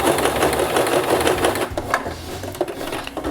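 A sewing machine stitches ear savers for face masks with a fast, loud mechanical rattle that runs steadily, then breaks into shorter bursts as the stitching backs up and starts again.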